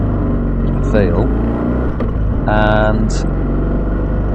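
A 1970s BMW motorcycle engine drones steadily under way, a loud close hum with wind noise, while someone talks over it.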